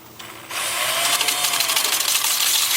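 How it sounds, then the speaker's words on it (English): A 2-inch, 80-grit sanding disc runs at about 350 RPM against a bark-on wooden bowl on a lathe. After a short quieter start, a steady, loud, hissing abrasive whir sets in and holds. "I'll switch over to a 2-inch sanding disc starting with 80 grit, and I'll do that at about 350 RPM"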